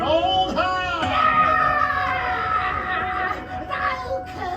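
The witch character of a Tangled stage show at Disneyland's Royal Theater lets out a long, wavering shriek that rises and falls over about four seconds, with crowd and background noise underneath.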